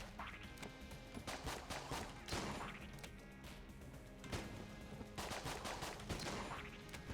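Rapid bursts of gunfire from the video game Enter the Gungeon, dense clusters of sharp shots with brief gaps, loud and close throughout.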